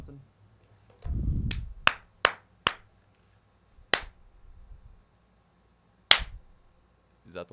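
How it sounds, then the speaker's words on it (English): A few people clap sharply while testing a recording setup: a burst of handling noise, then about half a dozen crisp, isolated claps spaced irregularly in a quiet room, close and distinct. "Can we clap or something?"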